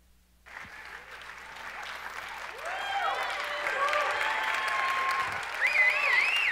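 An audience applauds to welcome a speaker at a talk, the clapping starting abruptly and swelling steadily into a full, sustained ovation lasting several seconds, with a few voices mixed in.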